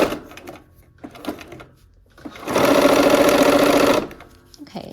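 A sewing machine stitches quilt fabric in one short burst of fast, even whirring, set between quieter stretches of handling noise and soft talk.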